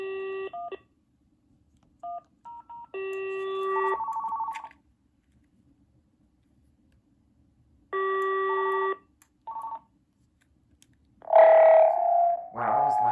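Old Panasonic phone on a mini PBX dialing a conference call: bursts of DTMF keypad tones in quick groups, separated by silences, then a loud warbling ring tone near the end, close and clear with no talk.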